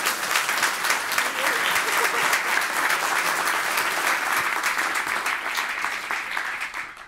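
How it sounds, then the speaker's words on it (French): An audience applauds at a La Poste innovation lab event in 2017 with sustained, even clapping across the whole stretch, moderately loud and fading slightly at the close. "je voudrais qu'on applaudisse Laure."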